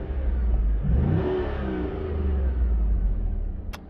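A Holden Commodore SV8 VY V8 engine revs up with a deep, loud rumbling rise, then settles back to a throaty idle, heard close with no talking.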